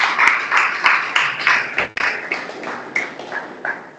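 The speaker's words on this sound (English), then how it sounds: "Please, can we clap" Applause from an audience at a national students conference, a dense patter of many hands clapping steadily, loud and close, with a brief dip partway through before it picks up again.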